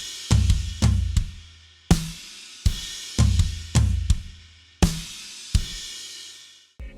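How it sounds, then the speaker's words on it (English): Drum kit tom groove in a worship style, steady and loud, with booming tom hits and crashing cymbals repeating in a driving pattern and played alone. "the last tom groove that I want to show you is, again, a very similar variation"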